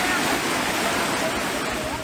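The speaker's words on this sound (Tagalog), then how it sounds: "Rumaragas ang tubig din ng pahirapang tinawid ng mga residente sa barangay Yakal at Nara." Fast floodwater rushing through a flooded village in Northern Samar, Philippines, a steady, dense roar of current that stays loud and unbroken for the whole stretch.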